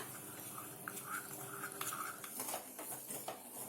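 Custard powder being stirred into cold milk in a bowl, faint clinking and scraping of a spoon against the bowl in quick irregular strokes, no talking.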